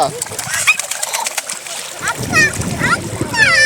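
Water splashing and splattering close by, with a voice and chirpy sounds mixed in over running water.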